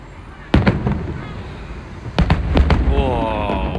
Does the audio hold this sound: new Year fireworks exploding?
yes